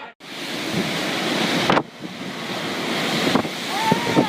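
Hurricane-driven waves pound a European coastline amid strong gusting wind, with loud roaring surf and wind buffeting the microphone, broken by two brief drops where the sound cuts out.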